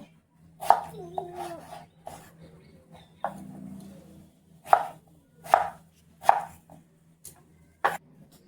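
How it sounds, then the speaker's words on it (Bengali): A knife chops a potato into small pieces on a board: sharp, close, evenly spaced strikes, a few soft cuts followed by a run of five crisp chops, with a low hum underneath. "আলুটা একটু ছোট ছোট করে কেটে নেব"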